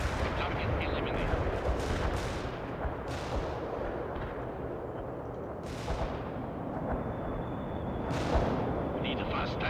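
Artillery fire in World in Conflict booms again and again, roughly every couple of seconds, each heavy blast trailing off into a rumbling combat din.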